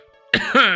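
A single sharp cough followed by a second, harsher cough, close and loud after a brief quiet start, from a person indoors near an open window.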